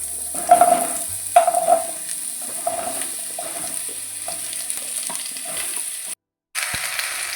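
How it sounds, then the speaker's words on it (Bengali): Raw mango pieces sizzle in hot oil in a home kitchen, with a steady hissing fry broken by a few sharp crackles and pops as the pieces go in, and a brief dropout near the end. "এবার আমি ওই তেলের মধ্যে আমগুলো দিয়ে দেবো একে একে"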